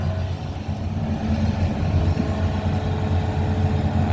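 Steady low rumble of a Hitachi ZX200-5G excavator's Isuzu six-cylinder direct-injection turbo diesel engine running continuously, close and fairly loud, with a constant throbbing drone and no voices.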